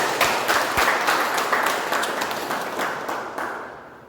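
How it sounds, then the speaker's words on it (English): A round of applause from a meeting audience, with close, crisp claps that start strong and fade gradually over a few seconds. "I would like everyone to give a round of applause."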